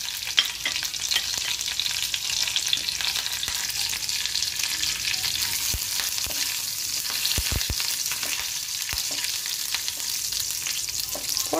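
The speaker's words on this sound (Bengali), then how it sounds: "ফোড়নগুলো একটু বেশ চটপট চটপট করে উঠলে" Whole spices crackle and sizzle steadily in a little hot ghee, a dense close frying hiss with a few sharper pops and occasional stirring clinks, no voices.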